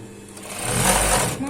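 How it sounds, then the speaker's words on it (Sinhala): A sewing machine stitches the side seam of two fabric panels in a quick, close run of rapid needle chatter that swells and then eases off. "ඊළඟට අපි පළු දෙක සයිඩ් එක මසා ගන්න තමයි යන්නේ."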